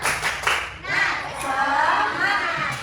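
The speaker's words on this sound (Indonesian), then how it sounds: "Coba biar semangat kita tepuk semangat dulu ya. Tepuk semangat." An Indonesian primary classroom performs the 'tepuk semangat' cheer. A few sharp, rhythmic group claps open it, and then the children's chanting voices carry on over light clapping.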